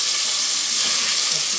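Chicken fries in hot oil as a dense, loud, even hiss and crackle close by, with no break and no other sound.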